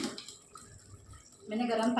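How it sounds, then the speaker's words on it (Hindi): Hot water poured into cooking masala for a chicken handi in a home kitchen, a short soft trickle and splash that swells into a louder, steady pour near the end. "तो अभी इस स्टेज पे मैं गर्म पानी डालने वाली हूँ"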